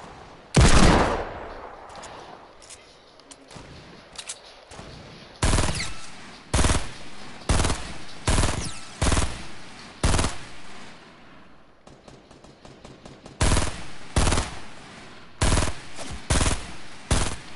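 Gunfire in a video game: loud, sharp bursts of shots fired in quick clusters, separated by short pauses, with a thin background of game ambience.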